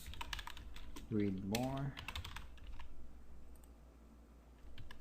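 Quiet clicks of keys on a computer keyboard come in irregular bursts, close up, with a short stretch of speech in the middle of the typing.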